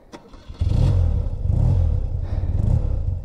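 A BMW R80 flat-twin motorcycle engine cranks with a short starter whir, then catches and settles into a loud, close, lumpy idle that swells with a couple of throttle blips.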